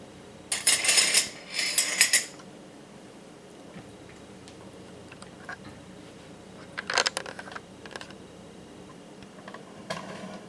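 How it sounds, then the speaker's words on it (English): A spoon is picked out from a set of cutlery, giving two short bursts of bright metallic clinking, then a quieter rattle and a few faint taps in a still kitchen. "Let's get a spoon."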